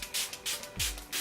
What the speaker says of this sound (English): Now I'm gonna go ahead and spray my face, make sure that stays on. This is the Makeup Forever Mist and Fix.